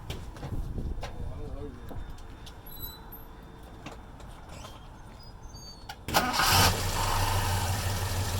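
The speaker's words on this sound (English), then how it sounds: "Cranks up really good." A Mazda B2000 pickup engine turns over and catches around the six-second mark, settling into a loud steady idle after a quieter stretch of background noise and faint voices.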